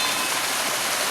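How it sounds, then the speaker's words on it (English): Steady broadband rush of a flowing stream in nature, a continuous watery hiss with no distinct events, alone and fairly loud throughout. "There is music of the flowing streams"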